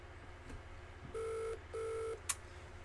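A telephone ring plays as two evenly spaced electronic tones for a phone-a-friend call in a quiz show, soft and clear, with faint clicks before and a short sharp click after.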